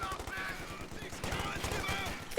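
Rifle fire rings out from a distance in a tank video game, a dense fusillade of rapid gunshot bursts that runs steadily through the whole stretch at even loudness.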